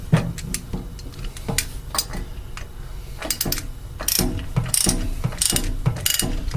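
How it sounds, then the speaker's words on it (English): A ratchet wrench tightens a new anode into the valve flange of a Darley LDMBC fire pump, giving repeated sharp metallic clicking bursts in an irregular rhythm, close and clear with no talking. "Turn our ratchet into the installation position"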